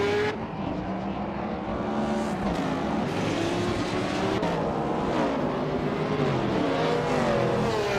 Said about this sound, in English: Bozza de Mojijames is driving a 1981 Lancia Monte Carlo Turbo with impressive turbocharged potential